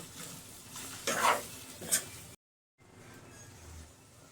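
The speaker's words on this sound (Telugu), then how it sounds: "లో ఫ్లేమ్లోనే మనం ఫ్రై చేసుకోవాలి, కుక్ చేసుకోవాలి" Spices and chicken for a chicken fry piece biryani sizzle in a pan over a low flame, with two louder stirring scrapes partway through, a brief silent gap, then a quieter steady fry.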